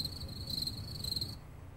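Played cricket-chirping sound effect: a steady, high, pulsing chirp from a single insect, fairly faint, over low background rumble, ending abruptly near the end.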